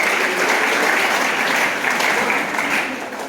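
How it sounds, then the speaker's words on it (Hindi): Children applaud loudly at an intercollegiate school gathering, a dense sustained burst of clapping close by that tapers off at the end. "जोरदार तालियां"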